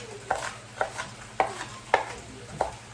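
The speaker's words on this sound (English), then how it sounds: "I just kind of give them a light chop" Onions being lightly chopped: five or six separate knife strikes on a board, evenly spaced about half a second apart, close and clear over a low background hum.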